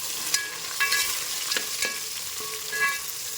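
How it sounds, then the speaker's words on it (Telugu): Ginger garlic paste and a handful of mint fry in oil for biryani, a steady close sizzle with occasional spoon stirring scrapes. "ఇందులోకి 2 స్పూన్ల అల్లం వెల్లుల్లి పేస్ట్, గుప్పెడు పుదీనా వేసుకొని పచ్చివాసన పోయేలాగా వేయించుకోవాలి."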